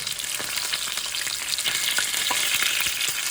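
Meat browns in a hot pan for a braise, a dense, continuous sizzle and crackle with scattered pops, close and steady throughout, with no voices.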